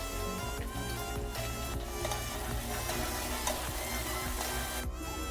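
Chopped onion, coriander and mint fry in a pan, giving a dense, continuous sizzle with faint ticking and stirring noises throughout.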